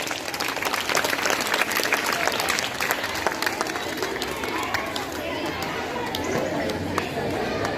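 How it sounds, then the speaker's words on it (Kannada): Schoolchildren at a government school Independence Day function clap loudly to welcome a guest, a continuous dense patter of many small hands with faint chatter mixed in. "ಜೋರಾದ ಚಪ್ಪಾಳೆಯೊಂದಿಗೆ ಮಕ್ಕಳೇ"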